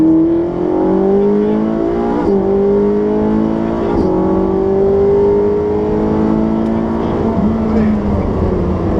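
A Ferrari 458 Speciale accelerates on a track, its engine note rising in pitch through the gears with brief dips at shifts, loud and close throughout, while a voice gives instructions over it.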